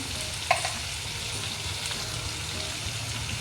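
Brinjal masala fry with turmeric is stirred in a pan, a steady close sizzle with a sharp spoon scrape near the start and soft scraping after.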